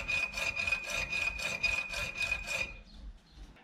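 A hacksaw cuts into carburettor choke shaft parts from a Toyota SD40 carburettor, about nine quick, evenly paced rasping back-and-forth strokes close by, then stopping with a faint scrape, no voices.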